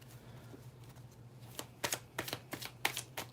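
Tarot cards being shuffled in quiet surroundings: soft handling at first, then a run of crisp riffling bursts close by.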